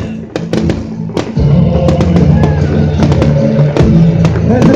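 New Year 2016 fireworks display in Roman, a dense barrage of sharp bangs and crackles over a constant roar, with loud nearby bursts and a murmur of crowd underneath.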